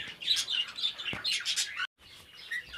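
Cockatiels in cages chirp and tweet continuously, several birds overlapping in bright, close calls, broken by a brief silent gap before the chirping resumes.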